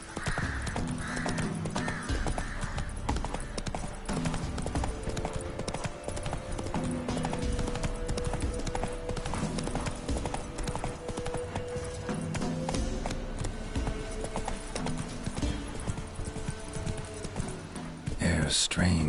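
Roach, a horse in the video game The Witcher 3, gallops with fast rhythmic hoofbeats that keep a steady clip-clop throughout, set under game music with a voice speaking briefly.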